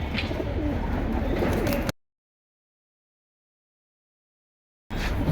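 Pigeons coo at a pigeon sale, soft throaty calls heard close over a busy background, broken by a stretch of complete silence before the cooing resumes.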